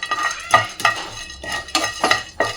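Spices for masala tea are dry-roasted in a pan and stirred with a metal spoon, giving about five close, rhythmic scraping strokes with light rattling of the dry pieces and no talk.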